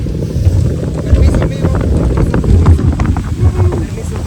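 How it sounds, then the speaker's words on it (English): A fast boat crossing a lake near San Marcos, Guatemala, with a loud roaring engine, heavy wind buffeting the microphone and rhythmic thuds as the hull slaps the water. "This boat here is so freaking fast."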